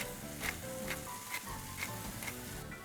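Onions and tomatoes cook in a pan for a homemade pasta sauce, giving a steady, soft sizzle with faint crackles and pops throughout and no voices.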